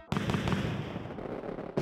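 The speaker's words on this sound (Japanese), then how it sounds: "すごい花火だ。" Fireworks bursting in Super Mario 3D World + Bowser's Fury, a steady crackling, booming spread of pops that fills the clip loudly with no voices over it.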